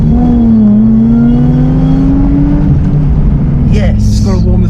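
Zagato Shooting Brake car creeping around a racetrack at walking pace, a steady low engine drone with a faint rising whine, with people talking over it throughout and a brief higher rattle near the end.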